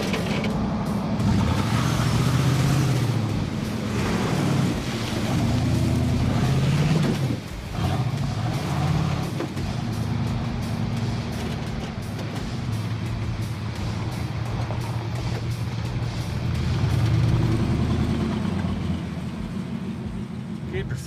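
A car engine hums and road noise rolls on steadily as the vehicle drives along, with occasional bumps.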